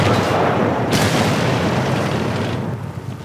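A shell strikes a tank in the video game World of Tanks, landing as one loud, heavy boom with a sharp crack near the start, then fading into a rumbling decay, with no talk.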